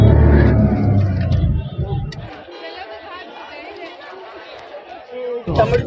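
Crowd chatter at the Maha Kumbh Mela in Prayagraj, heard from inside a car: a dense babble of many voices and road rumble, loudest at the start, then a steady murmur with a louder burst near the end.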